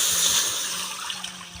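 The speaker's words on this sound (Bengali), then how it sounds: "এবার দিয়ে দেবো জল," Cold water poured into a pan for egg chowmein, a continuous rushing and splashing stream heard close up that gradually thins and quiets toward the end, with no voices.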